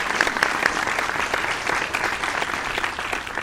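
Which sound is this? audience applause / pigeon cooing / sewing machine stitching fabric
audience applause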